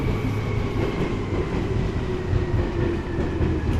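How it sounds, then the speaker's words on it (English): A train rolls past in a quiet Tokyo residential neighborhood, a steady rumbling drone with faint rail clatter holding at an even, fairly close level throughout. "Can you guys hear the train?"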